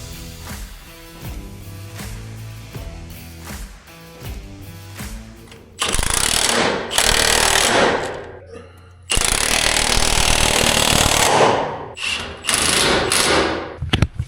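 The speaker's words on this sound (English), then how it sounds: "we got a new weigh bar installed, and we're just tightening the bolts up" A power tool drives bolts tight on a newly installed weigh bar of a farm feed wagon, firing in loud, close, rattling bursts of several seconds each with short pauses between, after a quieter stretch at the start.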